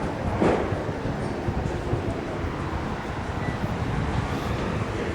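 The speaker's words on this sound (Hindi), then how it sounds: "बहुत बड़ा मेट्रो स्टेशन है भाई ये नई दिल्ली का" Busy New Delhi metro station, a low steady rumble of crowd and machinery with indistinct murmuring voices and a distant hollow roar throughout.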